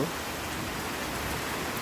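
Steady rain falls continuously, a dense even hiss of drops hitting surfaces with no other sounds.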